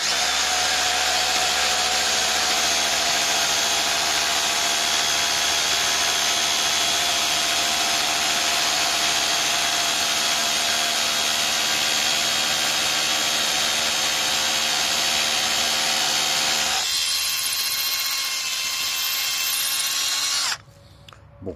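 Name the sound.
small 18-volt cordless drill drilling into wall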